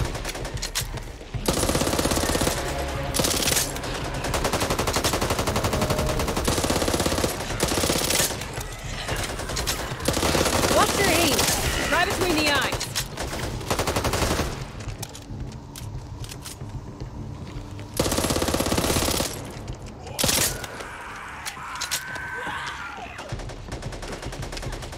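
Rapid automatic gunfire in the video game Back 4 Blood, loud sustained bursts with short gaps between them, mixed with other game effects.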